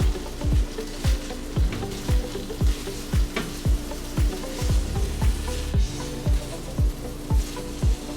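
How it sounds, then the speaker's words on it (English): Butter melting in a pan for a carnivore rice and shrimp dish, giving a steady frying sizzle with repeated knocks of stirring or a utensil against the pan at a regular pace, close and fairly loud, with no talking. "Let that butter melt."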